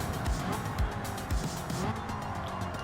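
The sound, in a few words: tire squeal in a car racing video game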